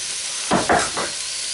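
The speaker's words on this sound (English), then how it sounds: "So I got 5 cloves of garlic going in." Five garlic cloves land in a hot pan of red beans and rice base, sizzling in a few short bursts over a steady background hiss, close and alone with no talk.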